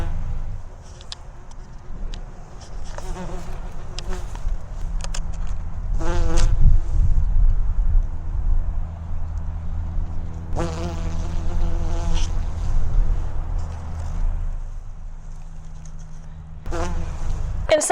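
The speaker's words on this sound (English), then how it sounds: "you hear the leaves in the background and bees buzzing" Bees buzzing outdoors around a handheld voice recorder, a steady insect drone with a few louder passes close by, while someone talks over it and leaves rustle underfoot.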